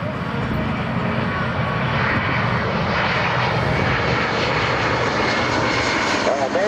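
A Douglas C-47 propeller transport flies at the 2009 Randolph AFB airshow, its engines giving a loud, steady drone that holds throughout while an announcer talks over it.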